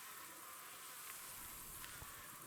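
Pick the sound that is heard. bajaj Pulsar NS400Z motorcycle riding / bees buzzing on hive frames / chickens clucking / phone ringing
bees buzzing on hive frames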